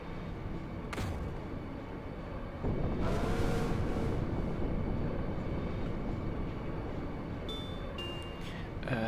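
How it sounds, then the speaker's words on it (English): A train in the Final Fantasy VIII video game rumbles and vibrates, a loud, continuous low roar that swells partway through, with faint higher tones near the end. "There was no damage to the train from that minor vibration."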